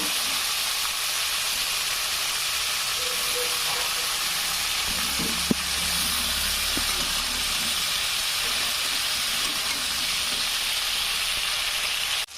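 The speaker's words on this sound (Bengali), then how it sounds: "নুন হলুদ মাখিয়ে রাখা ফুলকপি ভালোভাবে ভেজে নেব।" Cauliflower pieces rubbed with salt and turmeric frying in hot oil in a kadai, a steady, soft sizzle and hiss with a few faint stirring knocks.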